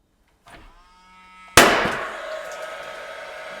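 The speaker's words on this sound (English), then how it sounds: "16 gauge nailer. I'm gonna line this up and I'm gonna shoot through my shim." A 16 gauge finish nailer fires through a shim at an interior door jamb: faint handling noise first, then one sharp, loud crack with a ringing decay afterward, alone without talking.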